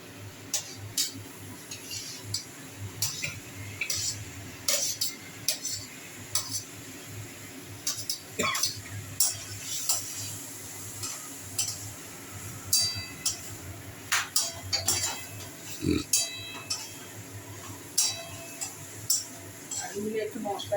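Potato pieces go into a pan and are stirred with spices while cooking a pumpkin dish, giving a steady run of metal spoon clinks and scrapes against the pan with a low sizzle under them.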